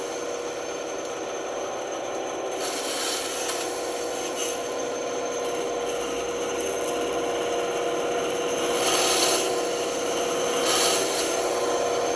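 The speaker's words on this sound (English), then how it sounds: "I have an electric sander. I'm gonna run everything over." An electric sander runs continuously over wood, a steady whirring buzz with louder rasping swells as it presses against the surface, close by with no speech.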